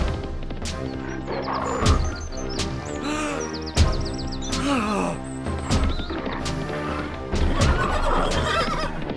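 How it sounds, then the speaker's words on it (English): A horse neighs and whinnies loudly several times, close by, amid dramatic film music, hoof clops and crashing sounds, with voices in the scene. "Good horse."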